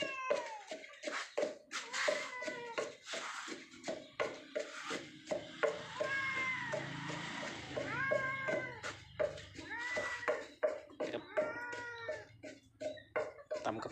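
Repeated close meowing from a cat, some short and sharp, others drawn-out and wavering, coming in an uneven, persistent rhythm.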